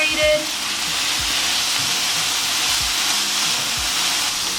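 Worcestershire sauce sizzles loudly in a hot pan as it is stirred in, a dense steady hiss and crackle with faint low scraping knocks of stirring underneath.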